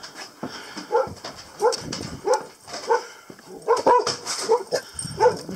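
A dog named Sheldon barks repeatedly outside an off-grid house, a series of short, moderately close yips and barks spaced about half a second apart, with some whimpering between them.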